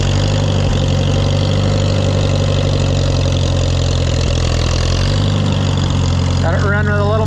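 An Allis Chalmers WD tractor engine runs on a little choke, a loud, steady low idle close by with a faint voice near the end.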